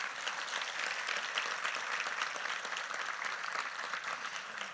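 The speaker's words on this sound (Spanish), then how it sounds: "Dale un aplauso a Él, por favor." A church congregation applauding during a sermon, thick continuous clapping from many hands, even and sustained throughout without any voices.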